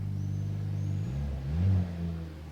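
Mercedes-AMG C43 with its four-cylinder engine, exhaust note heard from outside the car as a low, steady idle burble that swells briefly into a deeper rev before settling, with no talk.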